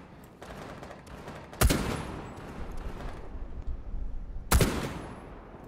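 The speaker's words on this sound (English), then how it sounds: "Start shooting right now." Gunfire in Rainbow Six Siege: two sharp, loud shots stand out a few seconds apart over a low, busy background of distant game noise.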